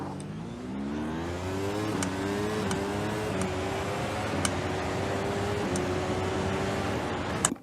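Racing sim car engine revving hard at a race start under a floored accelerator, its pitch climbing through several gear steps with brief dips at each shift, loud and continuous.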